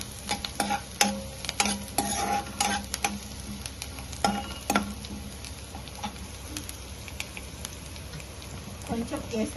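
Green chillies and curry leaves frying in oil for chicken manchurian, a steady close sizzle broken by clattering stirring knocks and quick crackles, busier early on and thinning later.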